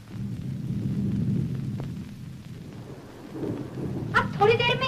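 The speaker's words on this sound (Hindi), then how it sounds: "वो देखो उस पहाड़ी पर बारिश शुरू हो गई।" Rain and a low rumble of thunder break over hills above farm fields, a steady broad wash of downpour holding through the stretch, with a brighter burst of rustling near the end.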